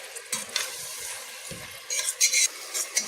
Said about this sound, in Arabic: هي بتتشوح كده، احنا هنشوح البصلة بس